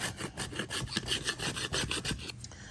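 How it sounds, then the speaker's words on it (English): Old spline being scraped out of the channel of a window screen frame, a close, steady run of short rasping strokes repeating in quick rhythm without pause. "And you're just gonna scrape all that out."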